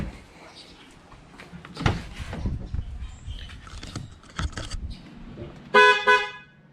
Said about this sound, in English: that's what the original horn sounds like